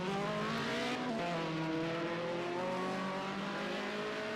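In a sim racing game, a touring car's engine whines steadily and then drops in pitch as the car steps down through the gears. The engine note is loud and fills the whole stretch, with no talking.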